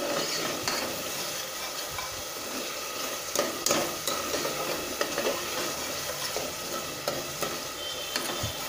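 Tomato rice masala fries in hot oil, a constant bright sizzle close by, broken by scattered taps and scrapes of a stirring spoon against the pan.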